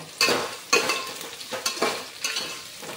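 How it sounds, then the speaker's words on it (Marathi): Onions sauté in a pan for chicken biryani, sizzling continuously while a spoon scrapes and stirs in several sharp, close strokes, with no speaking. "सर्व कांदा घालून घेऊन चांगल्या प्रकारे परतून घेऊया।"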